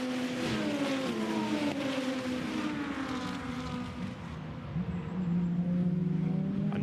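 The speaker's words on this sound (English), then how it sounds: "That distinctive wail from the Audi engine as he goes now through turn 6" Audi GT2 race car at Misano during a 2021 Fanatec GT2 European Series round, its engine wailing with a rising and falling pitch as it passes through a corner, steady and fairly loud over track ambience.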